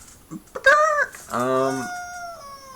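Chicken clucks and a drawn-out squawking call, loud and close, arriving in a quick burst of short notes followed by a longer wavering cry, heard during a tabletop Dungeons & Dragons game session.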